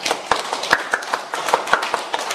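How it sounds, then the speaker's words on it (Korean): A small crowd at an indoor election-fraud briefing breaks into scattered, uneven clapping, a handful of close, sharp claps rather than sustained full applause. "박수!"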